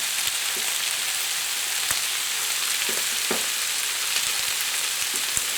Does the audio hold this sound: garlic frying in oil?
yes